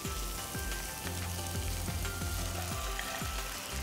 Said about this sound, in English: we are going to sear this on a high flame for 1 minute